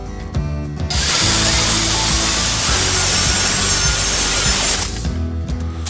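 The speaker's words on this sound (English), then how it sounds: "The block was then cut so there would be room to overbend the sheet metal to allow for spring back." A wooden block for a homemade sheet metal bending brake is cut with a power saw, giving a loud, continuous cut of about four seconds, with quieter tool noises before and after it.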